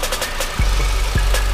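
A 1999 Nissan Maxima engine idles close by with a steady low rumble and a faint knocking undertone, two brief surges breaking the even drone.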